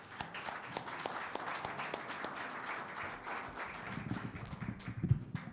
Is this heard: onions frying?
no